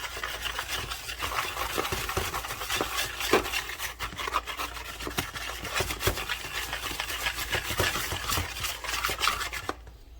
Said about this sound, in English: Now I'm gonna get my whisk.